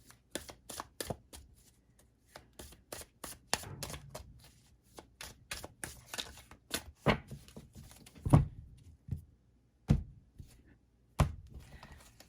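Tarot cards are shuffled in quick bursts of crisp riffling and slapping, with pauses and a few louder taps as the deck is squared.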